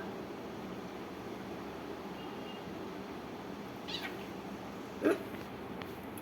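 One or two short cat meows sound faintly and briefly over a quiet, steady background hum, with a louder cry near the end.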